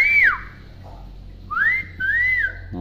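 A hill myna whistles back from somewhere in the distance: three clear, sliding whistles, the first falling away, then two rising-and-falling calls after a short pause, standing out over a quiet background.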